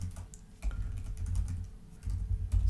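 Python code being typed on a computer keyboard, with a steady run of close, crisp keystrokes, some faster clusters, and no talking.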